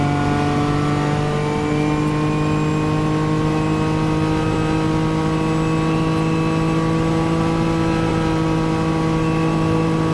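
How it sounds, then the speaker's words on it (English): Onboard engine of a racing car in the CMRSC endurance championship at Spa-Francorchamps, approaching the Bus Stop chicane: a steady, loud, sustained engine drone with strong harmonic tones held throughout, no talk. "We'll take a listen to his engine as he heads into the bus stop chicane."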